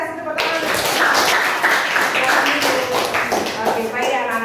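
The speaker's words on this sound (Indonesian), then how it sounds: "terima kasih tepuk tangan" Children in an Indonesian classroom clap their hands together, a busy patter of many small hands with a teacher's voice and other chatter mixed in, loud and close.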